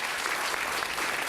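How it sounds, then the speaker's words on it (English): A brief burst of steady, dense applause from those gathered in the Los Angeles City Council chamber during an Italian-American Heritage Month presentation, heard without talk. "Let's give Giuseppe a round of applause"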